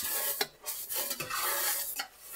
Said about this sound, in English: And then we're gonna stir just constantly.